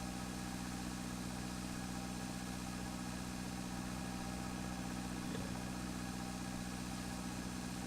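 Tractor engine in the farming game Pure Farming 2018, a constant low droning hum with steady vibration, unbroken and even in level throughout.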